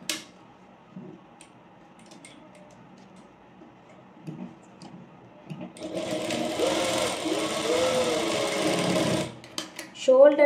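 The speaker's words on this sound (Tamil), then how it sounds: "நான் இங்கே 2 இடத்துலையும் லாக் போட்டிருக்கேன் ரிவர்ஸ் ஸ்டிச்" A sewing machine stitches a shoulder seam on a pleated petticoat, locked with reverse stitching at both ends. A loud, steady whirring burst of about three seconds sits mid-clip, with quiet talk and small handling ticks before it.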